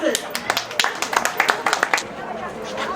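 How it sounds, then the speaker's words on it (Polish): Audience applause rises at an outdoor village harvest festival as a rural stall is honoured, with brisk overlapping claps in a close burst that fades out, while voices carry over and around it. "Brawa"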